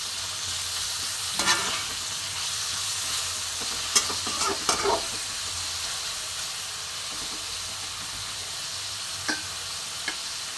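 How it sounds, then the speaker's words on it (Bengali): Two medium tomatoes frying with onion in a pan for a fennel coconut chicken dish, a constant sizzle broken by several spatula scrapes and stirring knocks, near and alone without speech. "এবার ভালো করে টমেটোটা ভাজবো পেঁয়াজের সাথে।"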